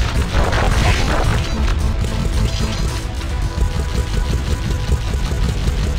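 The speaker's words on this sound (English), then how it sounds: "Ooh, explosion!" Explosions and crashing impacts from the Sly Cooper video game's final stage, loud and dense, with low booms and clattering debris filling the whole stretch without a break.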